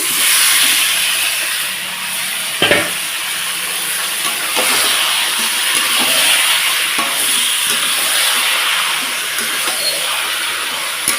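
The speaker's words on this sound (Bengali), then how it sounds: "এখন মাংসটাকে এর মধ্যে দিয়ে দিচ্ছি" Mutton pieces dropped into a pot of cooking onions set off a loud, steady hiss of sizzling that carries through the whole stretch, with a sharp clatter near the start and light stirring scrapes after.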